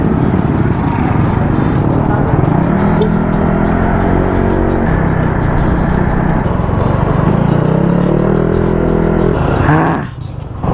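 A Benelli TRK 502 two-cylinder adventure motorcycle engine revs and rises in pitch twice, heard from onboard under loud wind and road rumble, with the engine easing off near the end.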